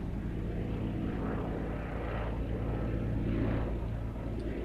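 A Westland Lysander propeller aircraft makes a flying pass at an airfield display, its engine drone steady and fairly loud throughout with a slight swell near the end, no talk over it.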